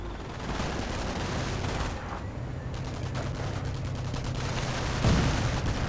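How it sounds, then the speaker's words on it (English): Heavy rocket artillery pounds an area in a World War II strategy game battle, a dense continuous roar of overlapping blasts and crackling explosions, loud and sustained with a heavier thump near the end. "just more artillery absolutely burning the area with heavy rockets"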